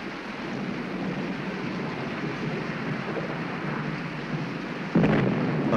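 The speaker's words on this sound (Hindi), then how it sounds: "बारिश तो और बढ़ गई" Steady, dense roar of heavy rain pouring down in a scene from the 1987 Hindi film Ijaazat, constant throughout, with a louder surge of wash near the end.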